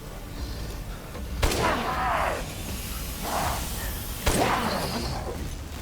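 Gunfire in the video game Resident Evil Village inside Heisenberg's factory, two sharp loud shots a few seconds apart with booming tails and whooshing effects over a murky game background.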